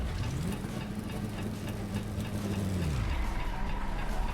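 A car engine revs steadily and close by, its pitch holding level before dropping away as the vehicle passes a homemade radar-guided turret, with light mechanical noise underneath and no talking.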